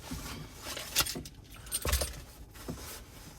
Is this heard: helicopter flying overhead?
no